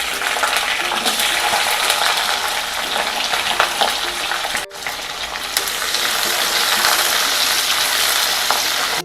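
Onions hit hot sesame oil already crackling with mustard seeds and dried red chilies for a Tamil-style curry, giving a loud, steady, close sizzle with a brief dip near the middle.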